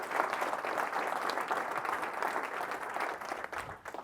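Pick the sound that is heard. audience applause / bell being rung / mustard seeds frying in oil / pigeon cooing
audience applause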